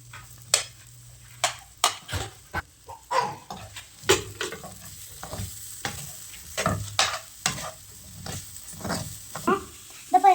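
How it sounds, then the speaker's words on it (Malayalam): Garlic and onion sautéing in a pan for a Kozhikode-style stuffed squid dish, with a soft sizzle under repeated sharp scraping stirring strokes, close and moderately loud. "ഇതപ്പോ നമുക്ക് ചെറുങ്ങാനൊന്ന് ഫ്രൈ ആക്കിയെടുക്കാം"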